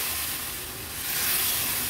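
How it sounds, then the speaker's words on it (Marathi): Water poured into a frying crab curry masala in an Agri Koli style crab dish, giving a steady, loud hiss of steam and sizzle that fills the short moment without pause and with no talk. "ग्लासभर तरी पाणी ऍड करणार आहे।"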